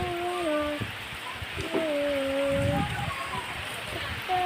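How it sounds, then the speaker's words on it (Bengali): Outdoors, steady rain patters on surfaces, while high, drawn-out whining tones rise above it in short stretches. "আর একটু বৃষ্টি বেড়েছে।"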